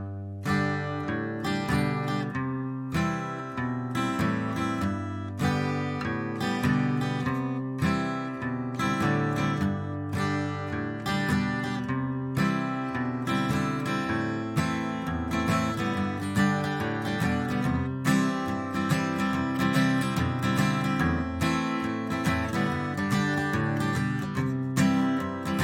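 Electric guitar plays a picked melody with strums across the top strings between notes, a continuous, full and fairly loud pattern with steady rhythmic attacks, with no voice over it.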